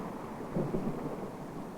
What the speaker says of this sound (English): Wow, this is some really good footage of rain in a rainforest